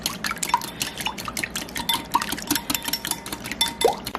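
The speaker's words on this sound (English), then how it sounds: "With a 1/4 cup of milk. And then we're just going to beat this up real finely." A fork or whisk beats egg and milk in a dish, with quick, light, continuous tapping and clicking against the dish, close by and busy, with no talking.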